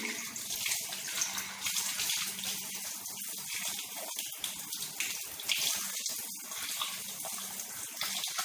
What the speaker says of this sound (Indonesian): baru kita melakukan pembersihan dengan membersihkannya dengan air mengalir, air yang bersih